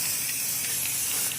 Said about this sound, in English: I'm getting spray paint all over my phone